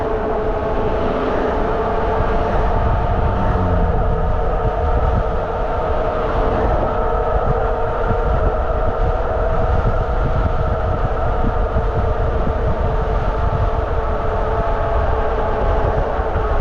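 A Bafang G62 dual-motor electric bike with a 75V battery pulls away hard on throttle, its steady motor whine and broad rolling rumble holding loud and close throughout with no voices.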